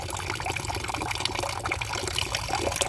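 Duck eggs for balut being washed and scrubbed in water, with continuous close sloshing and trickling and no talk.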